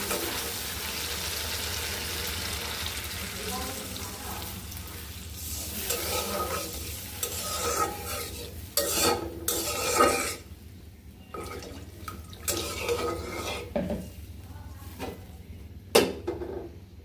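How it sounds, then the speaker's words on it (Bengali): Cumin paste, garlic paste, turmeric, chili and salt fry together in a pan with a steady, close sizzle, broken by stirring scrapes and a few sharp utensil knocks, and no one speaks. "মশলাগুলো আগে কষায় নিচ্ছি তো এখানে হচ্ছে জিরে বাটা আর হচ্ছে রসুন বাটা আছে আর হচ্ছে হলুদ মরিচ লবণ সব একসাথে দিয়ে দিয়ে দিলাম"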